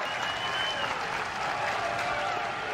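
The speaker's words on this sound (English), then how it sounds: "this crowd comes to its feet in approval" A college baseball crowd in a Florida State versus Florida game applauds and rises after a strikeout, a steady wash of clapping at moderate distance with no break.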